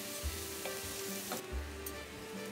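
Rice stirred through softened onions and pepper in a hot pan: low scraping sweeps of the spoon recur at an unhurried pace over a steady, quiet sizzle, close by with no voices.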